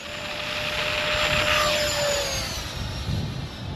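A Freewing F-16 64mm four-cell electric ducted-fan RC jet whines overhead in windy, rainy weather, a steady high-pitched turbine hiss swelling slightly as it passes, heard from the ground with wind noise underneath.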